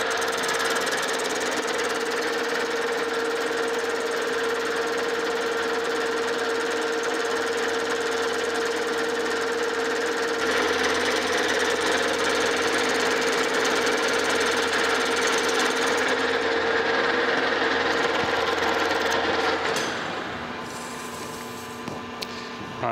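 A metal lathe cutting bronze shoes for a steam engine crosshead makes a steady, loud machining drone with a constant whine for about twenty seconds, then it winds down near the end.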